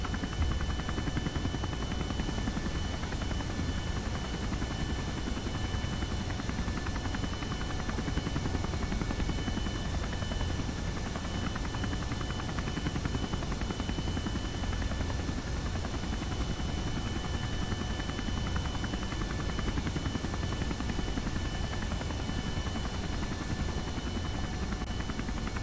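A video game helicopter's rotor in Kerbal Space Program thrums steadily for the whole stretch, a dense, even roar with no pauses and no voices.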